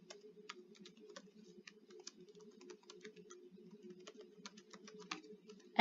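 Someone types an email address on a computer keyboard: a quiet, close run of quick, irregular key taps that continues throughout, with a sharper click at the very end.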